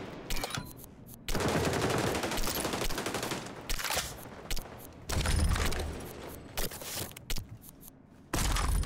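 Sustained AK rifle fire in the shooter game Arena Breakout rattles out in long, loud automatic bursts, broken by brief pauses and a few short gaps, up close and dominant with no talking.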